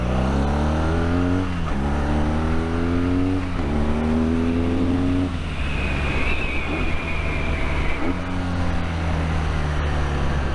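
A 2021 BMW R nineT motorcycle revs and accelerates up through several gears, with a smooth, deep engine note that climbs, drops at each shift and climbs again, loud and close throughout.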